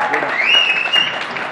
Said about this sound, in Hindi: बात है भाई, जोरदार तालियां.